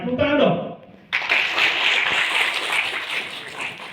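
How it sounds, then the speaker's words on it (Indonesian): Following a talk to nursing diploma students, the audience breaks into a burst of applause that begins abruptly after a voice and carries on as a broad, even wash of clapping. "Ya, tepuk tangan dong"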